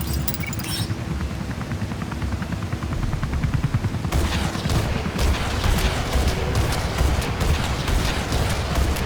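Rapid gunfire in the Comanche 3 helicopter combat game: steady streams of sharp automatic shots rattling over engine rumble, growing denser and louder partway through.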